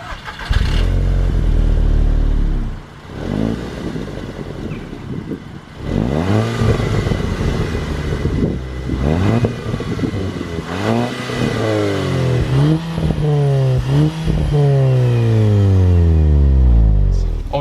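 A Volkswagen MK6 Golf GTI Edition 35 engine cranks and catches, then revs repeatedly, rising and falling in pitch, loud and close throughout.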